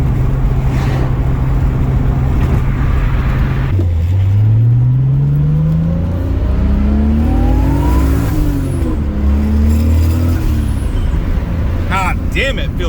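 A 1978 Ronin Z car engine idling loudly, then revving up and down through several rising and falling sweeps, close and heavy throughout, no talking.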